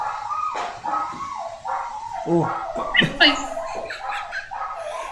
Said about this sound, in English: That's our neighbour's dog.